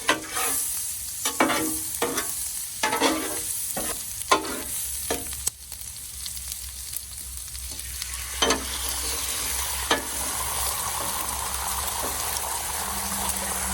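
Butter and avocado oil sizzle on a Blackstone flat top griddle, a constant hiss broken by a run of spatula scrapes and taps early on, then settling into a steadier sizzle.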